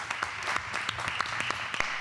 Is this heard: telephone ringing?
no